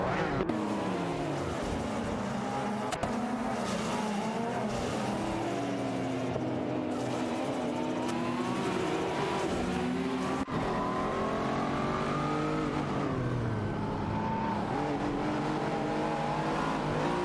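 A Lamborghini Countach 5000 and an Audi Sport Quattro race wheel to wheel in a racing video game, their engines roaring steadily and loudly as the pitch climbs and falls through gear changes, with no talking.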